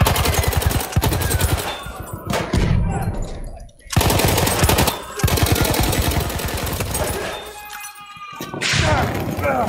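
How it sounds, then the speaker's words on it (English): Rapid bursts of machine gun fire in the World War I shooter game Battlefield 1 during a multiplayer battle, loud and close, broken by short gaps and followed by more sustained rattling volleys. "Spotted a machine gun."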